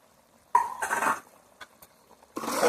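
Chicken curry being stirred in a metal pot, with a few scraping and clanking bursts of spoon against pan separated by short pauses, close and fairly loud.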